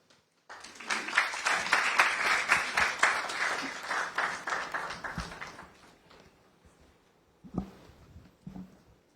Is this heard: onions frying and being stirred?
no